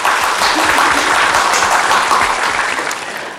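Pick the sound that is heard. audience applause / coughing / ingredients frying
audience applause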